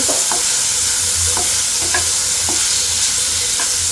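A spoon stirs turmeric and spice powder into boiled potatoes in a frying pan, soft scraping strokes repeating about every half second over a steady low sizzle, close and alone without talk.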